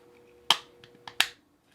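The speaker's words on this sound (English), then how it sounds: "You should hear the case audibly clip together." Two sharp plastic clicks snap close by, about a second apart, as a Toyota Supra GR key fob case clips together, with faint small taps between them in a quiet room.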